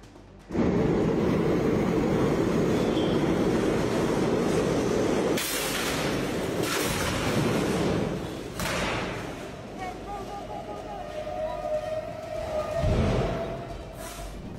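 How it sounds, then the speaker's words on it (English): A train rolls over a bicycle that had fallen onto the rails, with loud rumbling rail noise and several sharp thuds and impacts spread through the passage, later settling into a steadier running sound. "the train ran over a bicycle that had fallen onto the rails"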